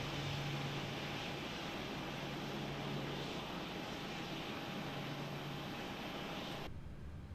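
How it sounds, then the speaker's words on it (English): Steady broadband roar of a United Boeing 777-300ER engine spooling up in a flight simulator, a continuous airy hum with a faint tone running throughout, cutting off abruptly near the end. "And a good start on engine number 1."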